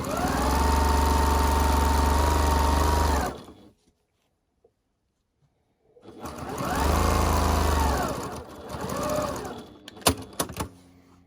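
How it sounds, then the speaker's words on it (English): A sewing machine stitches a fabric storage pod's base to a side piece in two close runs, its motor whine rising and falling, separated by a couple of seconds of silence and followed by some light clicks and handling. "you're lining that base piece up with a side piece, and then start stitching from there all the way down"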